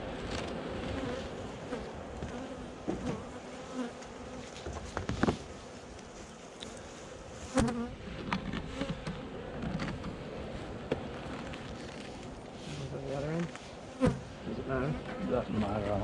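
Bees swarm and buzz steadily around hives that have blown over, a dense close hum with occasional louder passes near the microphone and faint handling noises underneath.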